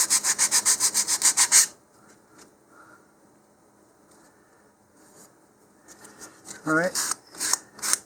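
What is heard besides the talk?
sanding model rocket part with sandpaper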